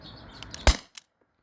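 A modified T4E HDP50 Gen 1 CO2 pistol fires a nylon ball in one sharp, close crack, followed a moment later by a faint impact tick, then silence.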